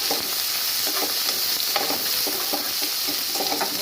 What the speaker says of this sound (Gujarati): આપણે લસણનું કાચું પણ નીકળી જાય ત્યાં સુધી એને શેકી લઈશું